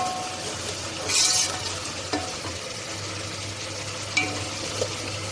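Onions fry in hot oil for fish pulao, a steady close hiss with a few faint clinks and a brief louder swell of sizzling early on.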